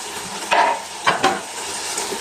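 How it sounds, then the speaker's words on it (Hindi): Potato pieces frying with spices in a pan, a steady sizzle broken by a few close, distinct spatula scrapes as they are stirred; no voices. "तो आलू को भी अच्छी तरह से भूनेंगे।"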